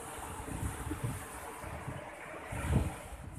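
Ocean surf rolls and washes in a continuous roar on a beach in Seunuddon, North Aceh, with high waves, gusty wind buffeting the microphone and a slightly louder wave surge near the end.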